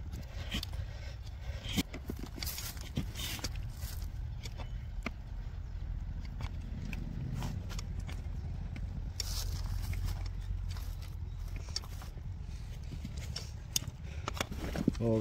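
Hooves of a pair of bullocks named Raiba and Baji pulling a bullock cart clop steadily along an asphalt road, close and continuous for the whole stretch over a low rumbling road noise.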